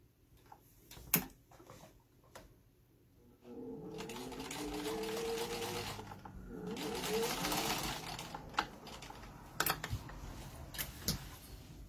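Top stitching runs on a sewing machine across a fabric page, two short close whirring runs separated by a brief pause, with soft clicks and taps of handling before and after.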